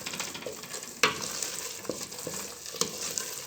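A spoon scrapes and stirs through a mixture in a pan, with a soft sizzle underneath and occasional sharp clinks against the metal.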